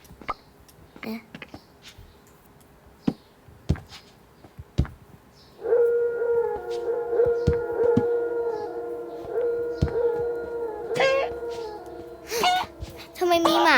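A dog howls at length in a survival video game, a wavering drawn-out call that rises and carries on for several seconds after a stretch of sparse clicks and taps.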